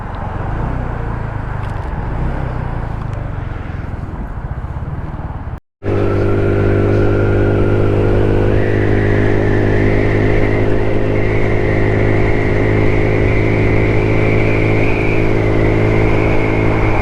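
A GY6 150cc scooter with a new exhaust revs hard, first a rough buzzing drone, then after a brief cut a loud, sustained high-pitched engine whine that climbs and holds close to the recorder.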